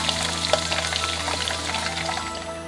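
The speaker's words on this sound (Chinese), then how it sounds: "七成油温左右啦， 放啲羊肉落去炸一炸佢， 炸成诱惑嘅金黄色" Lamb pieces deep-fry in hot oil for cumin lamb, giving a dense, steady bubbling sizzle with small crackles, close and fairly loud, with no voices.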